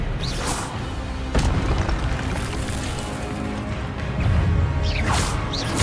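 Spells are cast in Hogwarts Legacy, with sharp whooshing bursts and booming impacts over a continuous rumbling game soundscape, several distinct cracks spaced across the stretch.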